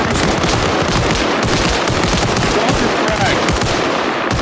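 Intense, continuous gunfire fills a battle in the video game Arma Reforger, with dense overlapping bursts and impacts throughout as a thrown frag grenade goes off amid the shooting, loud and close.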